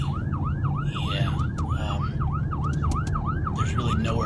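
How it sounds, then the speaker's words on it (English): An ambulance siren wails in a steady, rapidly repeating up-and-down cycle from close behind a car, running the whole time over a loud rumbling road and engine bed, with a few faint clicks on top. "there's an ambulance behind me"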